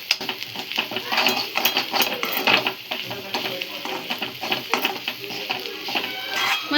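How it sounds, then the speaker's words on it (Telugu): Beans curry with coconut being stirred in oil in a pan, a steady scraping and sizzling with repeated spoon strokes, close and moderately loud throughout. "మంచిగా ఇట్లా కలుపుకుంటే అడుగు మాడకుండా."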